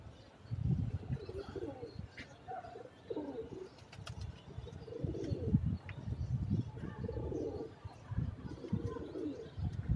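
Repeated low, throaty coos from a Teddy breed pigeon close by, rolling in irregular bursts with a few faint chirps in the background.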